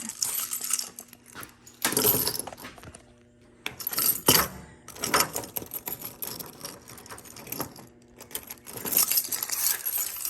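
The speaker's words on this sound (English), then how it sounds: "let me get the keys and open the drawers" A bunch of keys jangling and clinking in bursts up close while a toolbox of Snap-on tools is unlocked, metallic rattles coming and going with short quiet gaps between them.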